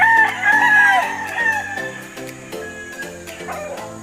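Several fighting roosters crow in overlapping calls in a backyard farm, loud and close, one long crow followed by others further off, with faint clucking around them.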